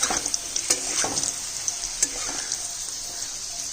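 Potatoes frying in hot oil for a river-fish curry, a steady close sizzle broken by several scraping stirs in the pan, with no talk.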